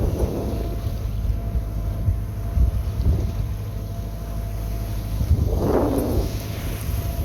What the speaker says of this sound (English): we lost the wind, so just motoring right now